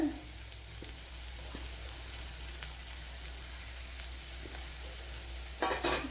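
Sliced onions and a handful of grated coconut sizzle steadily in a pan for a small onion curry, a soft even crackle with a few light stirring scrapes and a brief louder clatter near the end, no talk.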